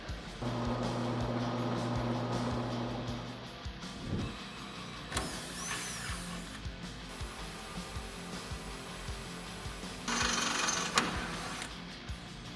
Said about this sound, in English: We're going to modify them a little bit, mill these out a little bit so we can get a bolt to go through the frame